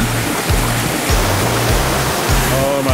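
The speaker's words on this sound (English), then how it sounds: "Double waterfall." A double waterfall on the Seawall Trail in Cape Breton, Nova Scotia, rushes in a loud, constant broadband roar, with faint wind-like buffeting underneath.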